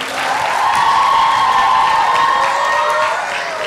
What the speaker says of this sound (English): can we give another round of applause for group 3?